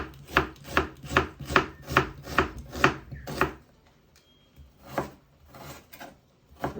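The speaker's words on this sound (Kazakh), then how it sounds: "Жуамызды да майдалап кубиктап тураймыз." A knife finely dicing onions on a cutting board while preparing manti dumplings: a rapid run of close, crisp chopping strokes, a brief pause, then a few more scattered cuts.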